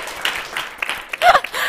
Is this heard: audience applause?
yes